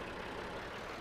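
An old Massey Ferguson tractor engine idling in Farming Simulator 19, a steady low rumbling drone, quiet and unbroken, with no talk over it.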